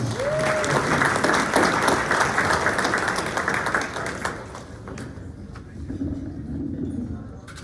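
An audience applauds local business owners at a community morning event, a full crowd of clapping that holds steady, then thins and fades toward the end.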